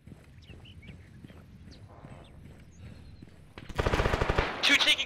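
Gunfire in the Arma 3 military game: scattered distant single shots give way to a loud close burst of rapid automatic fire near the end.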